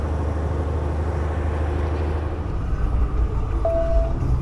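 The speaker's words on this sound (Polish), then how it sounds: "dużo jedzie ciężarówek." Heavy trucks rolling along a busy road make a steady, dense low rumble of engines and tyres that holds at an even level throughout, with a brief thin whine near the end and no talking.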